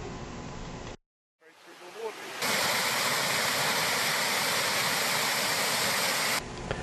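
Steady, loud rushing water fills most of the clip, a dense broadband roar like falling water heard close by, with a brief quiet gap near the start.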